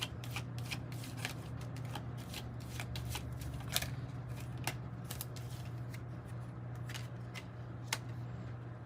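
A deck of Kipper oracle cards shuffled by hand at a tarot reading, with a steady run of soft riffling slaps and sharp snaps, close and quiet over a low hum.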